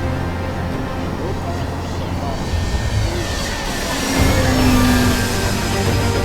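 A steady motor whine with a changing pitch comes from an E-flite Timber X 1.2 m radio-controlled plane in flight on its first flight, with someone talking over it.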